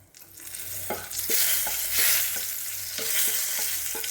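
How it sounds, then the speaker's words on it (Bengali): Whole spices such as garam masala and bay leaves hit hot oil left from frying potatoes, giving a steady close sizzle with soft stirring taps and scrapes. "এই আলু ভাজার তেলেই আমি ফোড়ন দিয়ে দেবো।"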